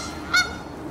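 A single short Canada goose honk rings out clearly against a quiet outdoor park background.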